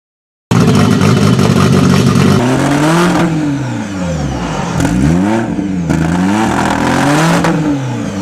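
A rally car with a Triflux engine revs and accelerates close by, loud and alone, its pitch rising and falling through repeated gear changes and throttle blips.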